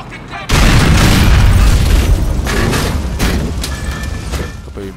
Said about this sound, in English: Do you know I'm throwing a grenade out there?